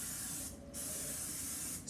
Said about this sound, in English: First, you want to spray it with some cooking spray.